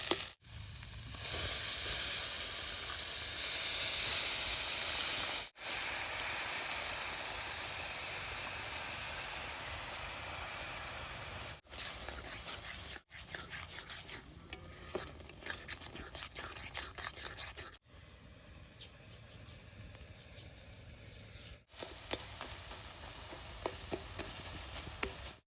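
Milk hits hot ghee with fried ginger in a pan, giving a sustained soft sizzle and hiss with scraping stirs and a few brief pauses, heard alone and fairly quiet.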